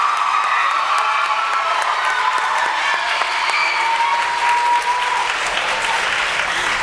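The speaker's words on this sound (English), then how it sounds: "Can I have a round of applause for our incredible MCs," Audience at a school's Encore student showcase applauds and cheers for the two MCs, with dense, steady clapping throughout, scattered whoops, and a few voices shouting over the crowd.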